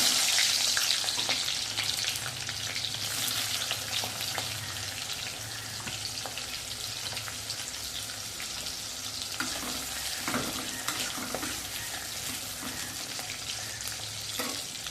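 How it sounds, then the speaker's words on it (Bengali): Onion and green chilli go into hot oil and fry with a strong, continuous sizzle heard close up, broken by stirring scrapes and occasional clatters of a spoon, with no voices. "তেল গরম হয়ে গেছে, প্রথমে দিয়ে দেবো পেঁয়াজ, কাঁচা লঙ্কা,"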